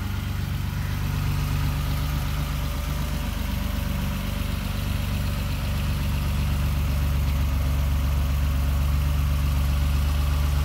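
A 1988 BMW E28 M5 with its 3.5-liter engine and independent throttle bodies idles steadily, a deep, even rumble with a constant low drone and no voices over it.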